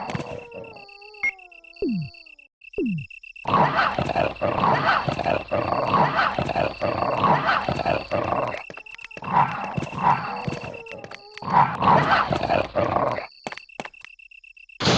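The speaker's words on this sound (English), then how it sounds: "get surprised by the dogs and almost get myself killed" Attacking dogs in the survival horror video game Resident Evil 1 snarl, growl and bark in loud, dense bursts, sustained across most of the stretch after a few short yelps, over a steady game tone.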